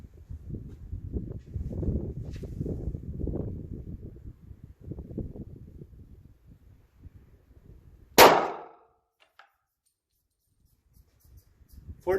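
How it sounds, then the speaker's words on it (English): A single sharp .357 SIG pistol shot fired through a chronograph rings out loud and close after a stretch of muffled talk, its report decaying quickly into near silence. "So let's shoot some through the chronograph and see how they compare. We'll start out with the 357 SIG first."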